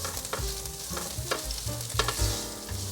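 Tofu seasoned with turmeric and salt is stir-fried in a wok, giving a low sizzle under several scraping, tossing strokes of a spatula at an uneven pace, close by and without voices.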